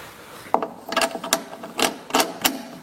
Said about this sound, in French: Je mets la bobine en place.